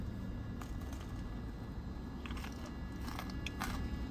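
Bites into crunchy Ohio-style fried chicken in a spicy chicken burger with mayo, giving close, crisp crunches and chewing over a low background rumble, with no talking.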